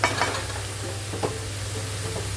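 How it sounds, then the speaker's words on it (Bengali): Drumstick leaves, salted and dusted with turmeric, fry in a pan with a steady sizzle while a spatula stirs them in short scraping strokes under a constant low hum. "ভালো করে নাড়াচাড়া করে শাকগুলো একদম এক জায়গাতেই করে নেব"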